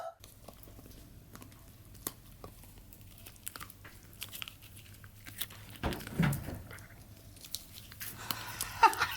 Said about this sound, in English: you can just hear him just chewing